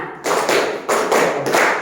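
Students in a classroom clap in unison in a short counted pattern. Three loud, close, broadband bursts come in steady succession, with no voices.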